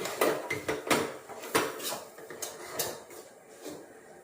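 Curry paste being stirred in a pan, heard as a run of close metallic scrapes and clinks of a spoon against the pan, loudest early and easing off, with no voices.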